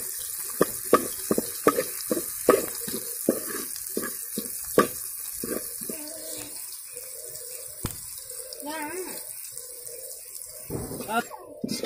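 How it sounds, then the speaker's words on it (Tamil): Karuvadam seasoning fried in oil with softened onion and tomato for a village-style fish curry, a soft sizzle under repeated clinks and scrapes of stirring. A voice can be heard faintly in the background. "இது நம்ம நல்லா எண்ணெயிலே வதக்கிக்கலாம்."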